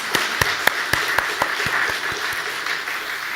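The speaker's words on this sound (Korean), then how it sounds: "하나님께 영광의 박수 올리겠습니다." Church congregation applause, a dense bed of clapping with several sharp, close claps standing out at a fairly regular rhythm, loud and steady for a few seconds with no speech.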